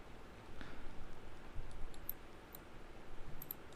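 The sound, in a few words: computer mouse clicking in Unity editor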